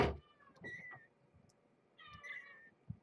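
A couple of soft, high meows from a small kitten, faint and close, with quiet pauses and a light tap between them.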